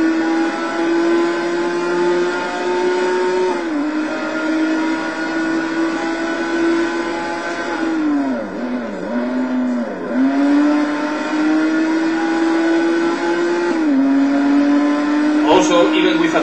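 An Esperante GTR-1 race car in the Total Immersion Racing video game holds a loud, steady engine drone. Its pitch dips and recovers at several gear shifts and corners, with a brief sharp burst near the end.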